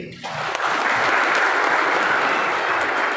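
Audience applause at a business presentation, a loud steady burst of clapping rising sharply and holding for a few seconds.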